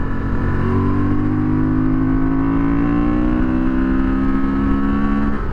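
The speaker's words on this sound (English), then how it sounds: "That's how you break in an engine right there." A Honda Transalp 750 motorcycle engine revving loud and close, a rising, droning engine note climbing in pitch and holding steady through the clip.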